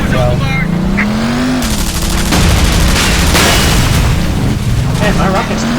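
Rockets burst in the combat game Frontlines: Fuel of War, loud booms and crackling blasts over rumbling engine noise and a droning tone, densely layered and continuous.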